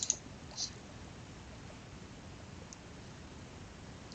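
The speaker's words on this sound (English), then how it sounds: "I'm going to click apply" Mouse clicks on an apply button in the WordPress admin dashboard: a few faint, sharp clicks near the start and one at the very end, with quiet room hiss between and no talking.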